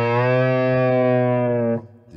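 Distorted electric guitar lick, a single sustained, slightly bent note ringing loud and alone for nearly two seconds before it cuts off.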